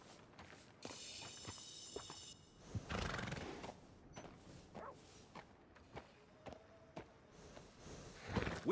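Horse whinnies loudly in Red Dead Redemption 2, followed by a sequence of hoof clip-clops and footsteps at a stable, sounds fairly close with quiet gaps between the individual steps.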